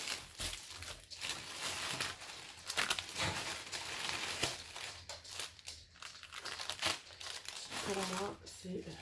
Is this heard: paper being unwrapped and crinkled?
yes